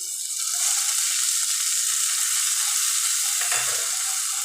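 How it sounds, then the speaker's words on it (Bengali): A spice paste of ground spices with a little water, ginger and garlic frying with onion in a pan over low heat gives a steady, even sizzle that fills the whole stretch, with one brief soft stir or scrape near the end. "এবার লো স্টিমে মশলাটাকে একটু ভাজা করে নিতে হবে"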